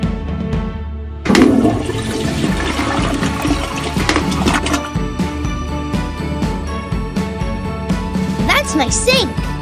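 A cartoon toilet flushes with a sudden rush of water that swirls and drains over several seconds, under light background music with speech nearby.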